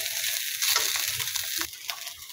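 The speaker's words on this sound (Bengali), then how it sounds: "এইরকমভাবে ভাজতে হবে যাতে কাঁচা পেঁয়াজগুলো ভাজা ভাজা হয়ে যায়।" Onions frying in a pan with chicken for a sandwich, a steady close hiss and sizzle with light scraping of stirring throughout, no talking.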